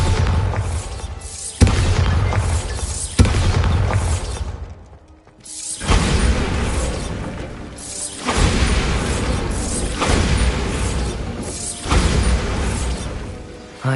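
A Bombarda spell blast from Hogwarts Legacy, a series of heavy booming impacts with shattering debris that repeat every second or two, loud and close, briefly dropping away before the explosions resume.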